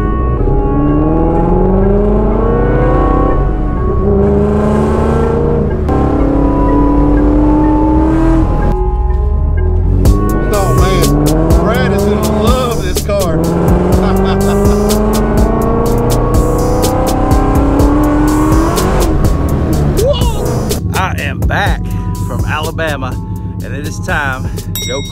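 A Ford Mustang GT350 with a Fathouse 800R engine build revving hard and accelerating, the loud engine rising through gears, with tire noise in the mix and people talking and whooping over it.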